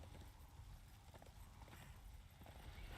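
Horse hooves clip-clop steadily on the ground in the video game Darksiders, a continuous rhythmic trot heard close and loud against a dense background of game ambience.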